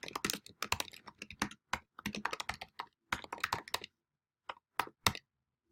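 Fingers tap on a computer keyboard to fill in text fields, in close, crisp clusters of keystrokes with brief gaps, ending in a few isolated taps.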